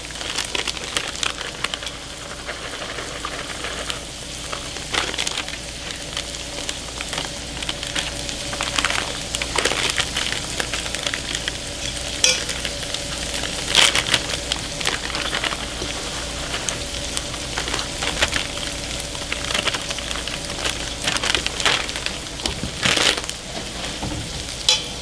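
Pepper jack and cheddar cheese are stirred together in a pan, giving a continuous crunchy, crinkling mixing noise with scattered sharper scrapes throughout.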